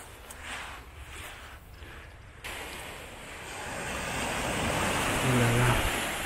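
Ocean waves wash onto a beach at Argelès-sur-Mer in southern France, a steady broad surf roar that swells louder toward the end, with wind buffeting the microphone early on.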